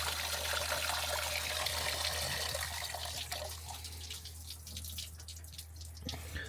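Coolant water drains from the reserve reservoir of a Ford F-350 pickup, a continuous close trickling and splashing stream with a constant low hum underneath, thinning slightly toward the end.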